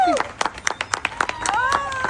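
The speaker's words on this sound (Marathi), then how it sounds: "वाजवा टाळ्या" A group of people clap their hands at a baby-shower celebration in a quick, uneven burst of sharp claps, mixed with overlapping excited voices talking and calling out nearby.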